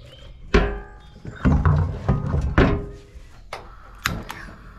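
Propane gas bottle regulator being swapped on a canal boat, a series of sharp metallic clunks and knocks at irregular intervals, close by, with no talk.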